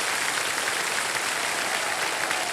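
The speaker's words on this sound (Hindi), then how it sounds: "सारे जोरदार तालियां बज जाए" A studio audience on a television quiz show applauds steadily, a dense, even wash of clapping that holds at the same level from start to finish with no voices.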